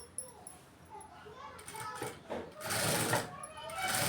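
A sewing machine stitches around the neckline of a silk blouse, with soft clicks at first, then louder, faster runs of whirring stitching toward the end.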